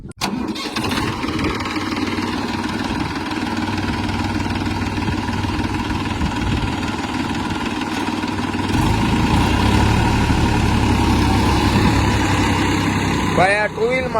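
Massey tractor engine running while ploughing a field, a loud, steady diesel drone that holds for the whole stretch and grows slightly heavier partway through, with voices talking over it.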